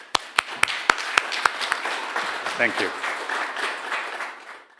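Applause at a European Academy of Sciences award ceremony: a handful of sharp, distinct claps that thin out and fade over about two seconds, after which a voice speaks briefly.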